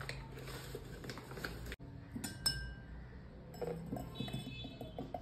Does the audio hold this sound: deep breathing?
no